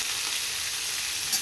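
Chillies, curry leaves and urad and chana dal fry in hot oil, giving a steady, close, hissing sizzle that holds even throughout with no voices.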